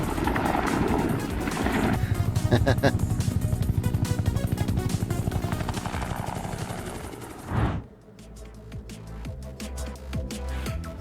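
A loud, steady agricultural helicopter engine with rapid chopping from two rotors that fills most of the clip, then drops abruptly to a quieter, rougher machine hum.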